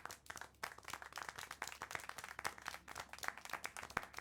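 Clapping in the video game Syberia: The World Before, a fast, dense patter of hand claps like a small group applauding, faint and steady for several seconds without talk.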